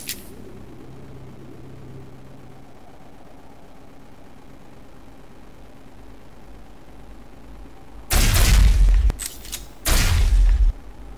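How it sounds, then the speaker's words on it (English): Heavy weapon in the Osiris: New Dawn video game firing two loud, roaring blasts about a second apart after a long quiet stretch of low ambient hum, each blast sustained and booming. "that is the heavy weapon"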